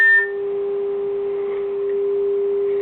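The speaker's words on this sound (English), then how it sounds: "and now you just hear the dial tone on it." A cordless phone handset gives a steady, unbroken dial tone at even loudness, heard alone over faint radio hiss as it is picked up on a 30.250 MHz scanner.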